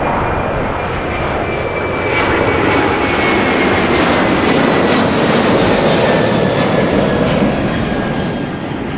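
A KLM jet airliner at Toronto Pearson airport produces a steady, loud, broadband engine roar that holds for the full stretch with only slight swells, heard alone without voices.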